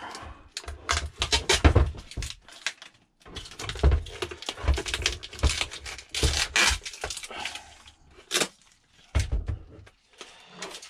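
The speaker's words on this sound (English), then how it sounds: "it looks like the glue's dried, so just pull this tape off" Tape being pulled off a freshly glued upper glovebox lid on a Citroen C4 Grand Picasso, giving close ripping, peeling and crackling bursts with brief pauses between pulls.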